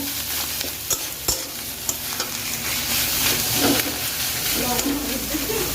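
Ground taro leaf paste with onions fries in a pan and is stirred hard, with repeated scraping strokes over a continuous loud sizzle.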